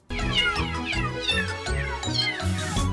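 Kittens meowing repeatedly as a sound effect, a rapid series of close, loud, high descending mews, several overlapping in quick succession.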